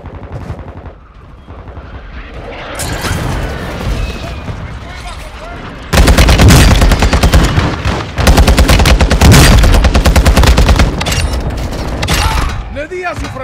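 Dense gunfire in Call of Duty Warzone, with rapid automatic bursts and single shots layered together. The firing is loud and close, builds into long sustained volleys, and runs under occasional in-game voice lines.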